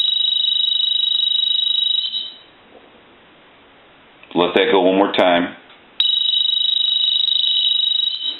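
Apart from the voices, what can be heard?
telephone ringing with high piercing piezo buzzer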